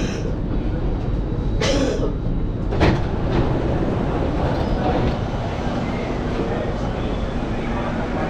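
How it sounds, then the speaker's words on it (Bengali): A metro train ride in Singapore heard from inside the carriage, with a steady loud low rumble, brief door and movement clatters near the start, and people talking faintly. "আমরাও মেট্রো করেই গার্ডেন বাই দ্য বেতে গেছিলাম।"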